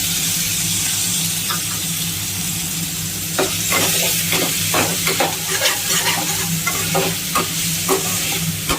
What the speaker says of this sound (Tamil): ஸோ இப்போ பச்சை வாசனை போக வதக்கிடலாம்.